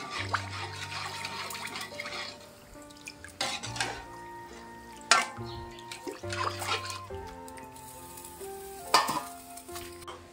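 Khichuri stirred in a pot for a Janmashtami offering, a spoon scraping and sloshing through the wet mix in close, irregular strokes with brief louder clatters, no voices.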